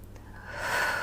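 During a Pilates leg kick, one big forceful breath out swells through the mouth and nose, a close, breathy rush that builds and fades within about a second.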